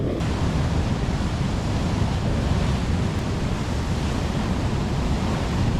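Sea waves wash steadily onto the shore in a continuous, loud broadband roar and hiss, with wind buffeting the microphone throughout and no voices.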